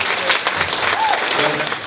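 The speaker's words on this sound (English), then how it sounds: "big round of applause for you actually" A gathering at a Rose Saturday event in Invercargill bursts into full, steady applause for the Taranaki Irish Society, with voices mixed faintly into the crowd's clapping.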